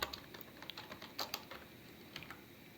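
Fast typing on a computer keyboard while entering input into a Python program, a steady run of light, close keystrokes with a few sharper taps, heard alone without voices.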